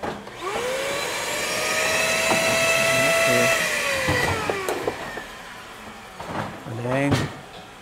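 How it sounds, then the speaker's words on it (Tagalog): A vacuum sealing machine closes cartons of bananas at a plantation in Davao, giving a loud, steady whirring drone that rises and falls. Clunks and knocks sound over it, and voices talk nearby. "Ito na, tapos i-vacuum seal na niya na to."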